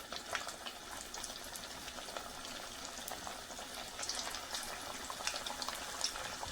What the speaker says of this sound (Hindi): जी ऑयल गर्म हो गया है तो इसमें हम चिकन जो है वो ऐड करते हैं।